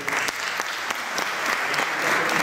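Audience applause at a poetry reading and theatre presentation in Foggia, sustained clapping from a crowd with distinct sharp individual claps standing out against the steady mass.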